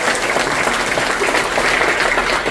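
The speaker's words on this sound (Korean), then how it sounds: "좀 더 열심히 해달라고 박수 한번 보내주세요." Audience applause fills a community residents' general assembly at Noeun 3-dong, a steady, dense wash of many hands clapping at close range without a break.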